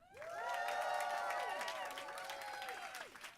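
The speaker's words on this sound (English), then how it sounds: "please will you give me your greatest cheer and applause" A concert or event audience cheers and applauds, a loud sustained roar of crowd voices with scattered whoops and clapping that swells quickly and holds for a few seconds.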